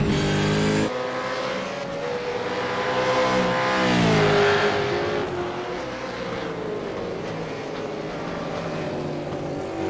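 V8 Supercars racing at Imola, a loud close engine roar with harmonic whine that climbs, dips through a gear change and swells as the cars pass, sustained throughout without talk.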